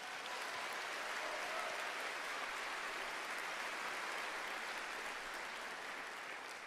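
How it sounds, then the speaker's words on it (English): An audience at a student-run fashion show applauds steadily, a dense, even clatter of clapping that holds at a constant level from start to finish with no voices above it. "Let's give them all a round of applause."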